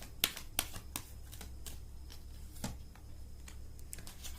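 Tarot cards shuffled and drawn by hand, giving a run of crisp snapping flicks and soft riffling clicks spread across a few seconds over a low steady room hum, with no voice in between.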